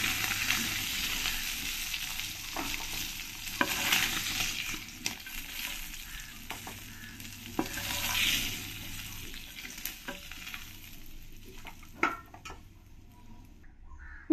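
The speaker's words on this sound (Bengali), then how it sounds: "পরের পুঁটি মাছগুলো আমি একই রকম করে ভেজে নেব" Small puti fish frying in hot oil, a steady crackling sizzle with occasional stirring clinks and scrapes near the pan, and faint crow caws in the distance.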